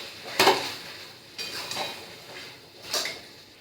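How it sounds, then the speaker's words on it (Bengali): Spiced mutton being stirred in a cooking pot with chilli powder added: three separate scraping clatters of a spoon against the pot, spaced about a second apart, fairly close and with no talking. "ভালো করে নেড়ে নেব"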